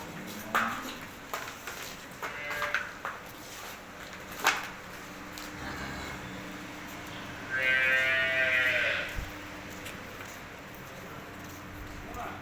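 Buffaloes at a dairy farm, with livestock shuffling and a brief animal call in the middle, heard fairly close amid ambient farm noise and intermittent background voices.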